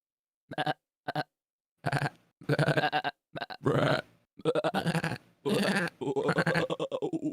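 A person imitates a sheep bleat, producing a series of short, voiced bleating bursts with pauses between them, close and fairly loud, about nine separate calls over several seconds.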